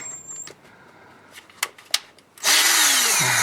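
A few faint knocks and taps, then a power drill whirs up loudly and runs steadily close by, working on stripped threads in the flywheel of a 1986 Jeep XJ 2.5L.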